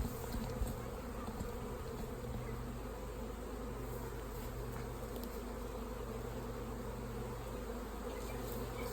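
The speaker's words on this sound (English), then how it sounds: "So I'm going to put the bees back." A dense, continuous buzzing of many honey bees close by during a hive check, a steady droning hum that never lets up.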